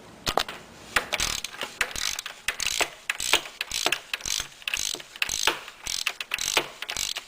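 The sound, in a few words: unscrewing part during oil change on 2.2L Ecotec engine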